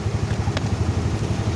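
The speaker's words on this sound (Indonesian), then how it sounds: "pakai aki motor mau nyala teman-teman ya." A Yamaha Mio Sporty motorcycle runs on its battery, its engine idling in a steady, close, low-pitched putter with an even rhythm and no voices.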